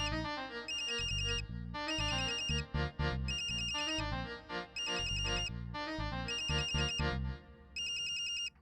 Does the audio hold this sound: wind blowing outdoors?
no